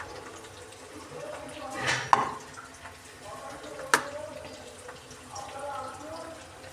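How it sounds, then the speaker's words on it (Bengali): Water poured from a tap or vessel into a cooking pot of spiced potatoes, a faint splash and drip in two brief bursts at a quiet kitchen level. "এবার একটু জল দিয়ে দেবো।"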